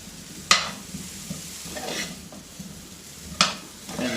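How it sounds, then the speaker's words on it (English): Cauliflower florets with cumin seeds sizzling in a hot pan, tossed with two sharp scraping clatters over a steady low frying hiss, close by with no talk. "That's where we get a bit of a sizzle."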